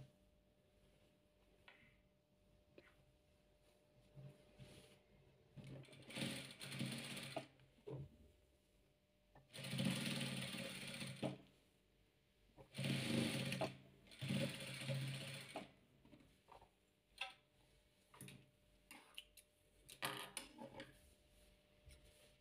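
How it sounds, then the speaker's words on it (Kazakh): A sewing machine stitches disco fabric patchwork in several bursts of rapid mechanical whirring and ticking, separated by quieter pauses with small clicks and handling noises, close and clear. "Өзіміз былай тегістеп тіге қоямыз."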